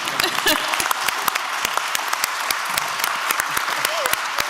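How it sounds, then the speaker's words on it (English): A lecture audience claps steadily and warmly at close range, many hands in an even, continuous patter, with a faint voice rising over the applause near the end. "I'm gonna stand and applaud y'all."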